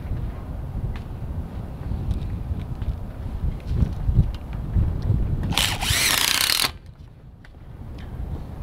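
A power drill drives screws into the 2x4 wooden frame of a greenhouse, a low rumbling whir with a sharp, loud high-pitched burst near the end before it cuts off, close by, with no speech.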